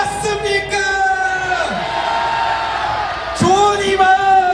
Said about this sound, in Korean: 다시 한번 함성 시작!